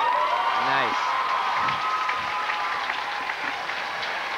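A crowd at a 1995 girls' high school state swimming and diving final bursts into applause and cheering after a dive; the clapping swells loud at first, then thins out, with voices mixed in.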